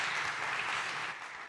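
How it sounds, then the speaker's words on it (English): An audience at a startup competition claps steadily and loudly throughout, dense applause with no voices over it, tapering slightly near the end. "please give a warm round of applause to Maximilian Hanekamp from Scavenger AI."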